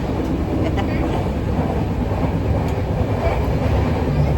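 Continuous low rumble and rattling of a moving Sawantwadi–Diva passenger train heard from inside a carriage, steady and fairly loud throughout.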